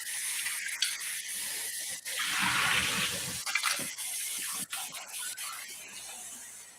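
Tap water runs steadily over strawberries being rinsed in a kitchen sink, a close hissing spray with a fuller splashing burst midway and small clatters and rubs throughout.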